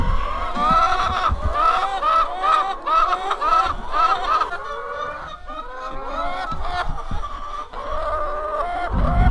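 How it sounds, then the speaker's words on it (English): Hens in a farm henhouse cluck and squawk continuously while eggs are collected, a busy overlapping chorus of chicken calls close by with no talking. "He is working on feeding chickens."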